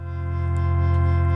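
Sustained synthesizer drone from a Sonicware Liven Ambient Ø soundscape synth, a steady harmonic tone with rich stacked overtones and a slight pulsing shimmer, loud and continuous without any voice.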